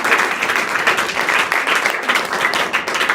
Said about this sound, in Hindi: और एक ताली आप लोग खुद के लिए बजा दीजिए।